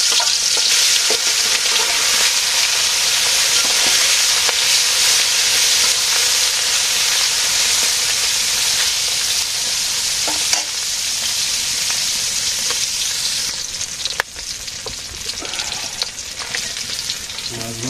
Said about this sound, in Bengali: মাছ ভেজে নেই